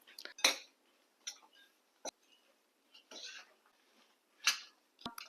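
Dry fruits and other ingredients being stirred into sugar syrup in a pan for gum (dink) barfi, with the heat switched off: sharp, scattered scrapes and clinks of a spoon against the pan in short bursts, fairly quiet, with no talk.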